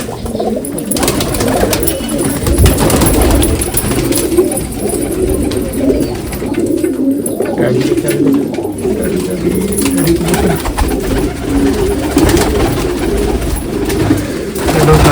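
Pigeons coo continuously and close by in a loft, a dense, steady bed of low throaty calls lasting throughout, with a brief human voice in the background.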